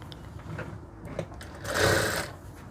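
A sewing machine stitches a folded lining hem on a Punjabi dress, a short close mechanical whirr that swells into a brief louder run of needle strokes near the end.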